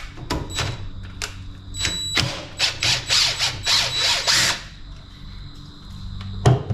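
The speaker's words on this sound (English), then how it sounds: "We just need an impact or a drill with our Torx bit." A drill with a Torx bit backs a large wood screw out of the top cap of a Stihl Pro splitting maul, giving several short whirring bursts with clicks and knocks between them, close and fairly loud.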